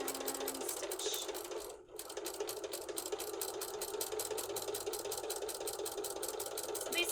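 A sewing machine runs steadily stitching a quilt block seam, a fast, even mechanical chatter that is close and continuous, with one brief pause near the start.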